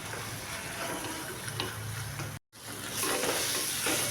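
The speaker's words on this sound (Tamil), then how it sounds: "வெண்டைக்காய் சேர்த்து வதக்கிக்கலாம்." Okra sautéing in a pan with onion-garlic paste for a fish curry, a steady close sizzle with occasional stirring scrapes and one brief cut to silence midway, with no talking.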